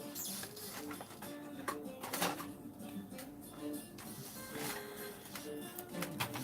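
A sewing machine stitches down the middle of a large sewn pocket to split it into two. Its motor runs as a steady mechanical whirr with ticking needle strokes and small rattles, under some quiet talk.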